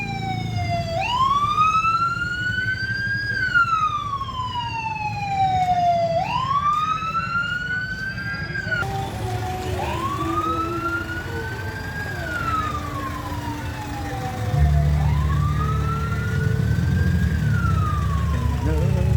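A loud wailing siren rises and falls in long sweeping cycles, with rumbling traffic noise beneath it.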